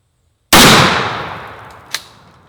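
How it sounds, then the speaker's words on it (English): A 20 gauge shotgun loaded with number 3 buckshot fires one loud, sharp blast up close, followed by a long decaying outdoor echo and a brief faint clank. "Okay, now we'll do the 20 gauge, number 3 buckshot"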